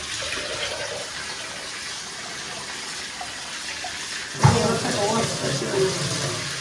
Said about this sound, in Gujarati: હવે આપણે આપણું ફિલ્ટર પણ ભરાય છે